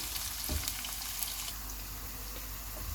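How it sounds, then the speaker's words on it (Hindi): Onions hit hot oil in a pan and fry with a loud, dense, continuous sizzle, close up, with a brief clatter near the start as they go in. "जब ऑयल गर्म हो जाएगा तो इसमें प्याज डाल देंगे।"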